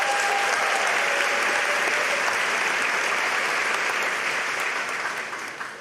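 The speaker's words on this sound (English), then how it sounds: "Give yourselves another round of applause." Loud, sustained applause from a large crowd at a graduation ceremony, steady clapping that tapers off slightly near the end.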